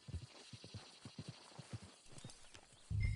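Steady clip-clop of horse hooves in Red Dead Redemption 2, in a regular walking rhythm, fairly close, followed by a brief louder low hum at the end.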